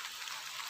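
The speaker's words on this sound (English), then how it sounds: "You can enjoy the rain as long as you want, whenever you want." Steady rain falls in a rural province of the Philippines, a soft continuous hiss of drops close by with no voices.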